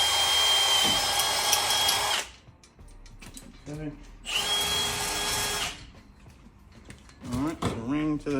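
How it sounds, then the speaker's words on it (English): A power tool runs in two loud close bursts of a couple of seconds each while a ring is riveted to a mounting bracket during a high-intensity wheel light install, with someone talking in the pauses between. "So now what you do is we'll rivet the ring to the bracket that we just mounted."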